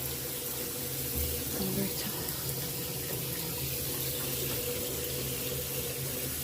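Tap water runs steadily into a sink while rose stems and roots are rinsed, a continuous soft splashing stream heard indoors at moderate level throughout.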